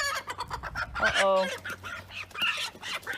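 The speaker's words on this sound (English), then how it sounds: "He's kind of mean there, that rooster." Rooster and hens clucking and squawking close by in a farmyard, with a sharp harmonic crow-like call midway amid busy fowl noise and a brief spoken exclamation.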